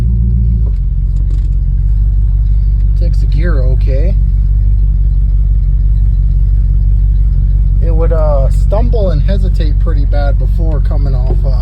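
A 1971 Mercury Comet engine, freshly carb-cleaned and still on choke, runs steadily with a loud, close, low rumble. A person talks intermittently over it.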